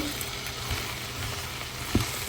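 Potatoes frying in oil in a home kitchen, a steady low sizzle throughout with a couple of faint stirring knocks near the pan.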